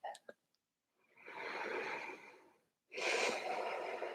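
Slow, deep breaths during a gentle early-morning yoga practice: two long, soft airy exhalations, each about a second and a half, close and quiet, separated by brief silence, with a faint catch of breath at the start.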